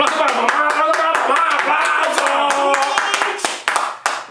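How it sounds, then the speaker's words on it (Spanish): A small group clapping for mom at a casual gathering while smoking hookah in New York City, loud close handclaps in a quick rhythmic pattern, thinning out and growing sparser near the end. "¡Aplausos para mamá!"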